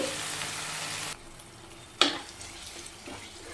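Tomatoes simmering in a pan over a low flame for a papaya curry give a soft, steady sizzle, with a brief clatter of a spoon or lid partway through.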